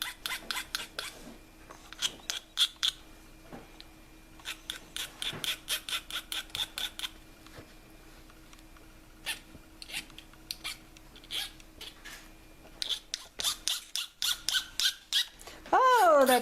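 Rasping strokes of a metal file on a silver spoon handle, in bursts of rapid, evenly spaced scrapes broken by short pauses, close and fairly loud, ending in a harsher squeal.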